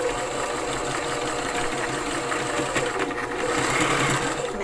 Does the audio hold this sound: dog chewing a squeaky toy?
no